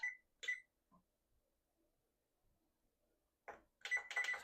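A kitchen timer is set for banana bread going into the oven. Faint, sparse beeps and clicks come first, then a few louder beeps close by near the end.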